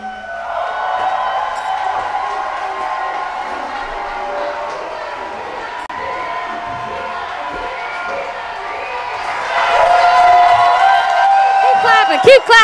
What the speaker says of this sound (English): keep clapping, keep clapping, and give it up for Sampson!